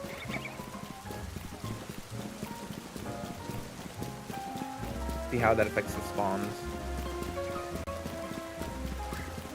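Steady rain patters across an in-game city in Pokémon Legends Z-A, a continuous wash of drops under game music and a voice talking over it.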